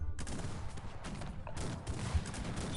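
Rapid bursts of gunfire in the strategy game Cossacks 3 crackle in close succession, a dense volley of shots over a low rumbling battle background.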